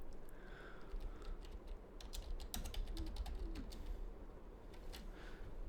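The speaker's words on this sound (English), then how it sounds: "I'm gonna stop typing." Quiet typing on a computer keyboard during a hockey game broadcast, scattered soft clicks in short bursts over a low background hum, with bird-like cooing sounds in the background.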